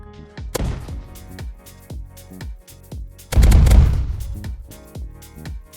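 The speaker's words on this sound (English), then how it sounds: "I will demonstrate the danger of these barrels by using this blue ball grenade thing." Red explosive barrels in a first-person shooter video game blown up by a grenade, a series of sharp gunshot-like bangs with one long, heavy explosion burst in the middle, loud and close.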